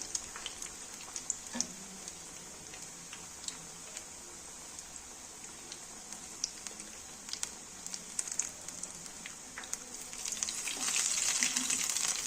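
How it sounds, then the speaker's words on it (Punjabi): Pakoras sizzle in a pan over a low flame, a soft steady crackle with scattered light pops and ticks that grows slightly louder and busier near the end, with no talking. "ਫਲੇਮ ਆਪਾਂ ਘੱਟੀ ਰੱਖਾਂਗੇ ਤਾਂ ਕਿ ਪਕੌੜੇ ਨੇ ਜਿਹੜੇ ਆਪਣੇ ਚੰਗੀ ਤਰ੍ਹਾਂ ਪੱਕ ਜਾਣ ਅੰਦਰ ਤੱਕ"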